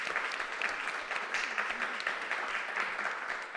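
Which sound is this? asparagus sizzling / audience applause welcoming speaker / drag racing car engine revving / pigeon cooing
audience applause welcoming speaker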